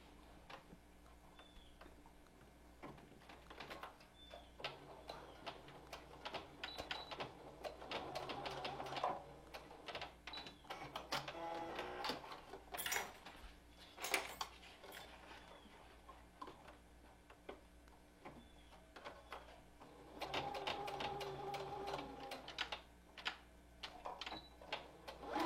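A sewing machine stitches the ends of a fabric mask in short, quiet bursts of rapid ticking, with pauses, clicks and fabric handling between runs.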